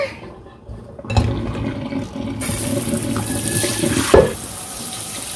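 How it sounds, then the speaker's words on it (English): Dirty water from washing wool locks gushes and splashes steadily as it is dumped into a sink, with a louder surge of pouring near the end. "Dump that dirty water."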